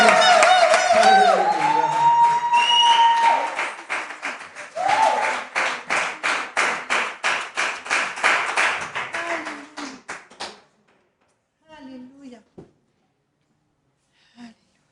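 A church congregation breaks into loud, rhythmic clapping, a steady run of sharp claps after voices fade, then the applause stops abruptly, leaving a few faint sounds in near silence.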